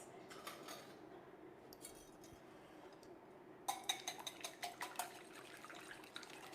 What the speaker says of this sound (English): So now all we have to do is beat our egg mix.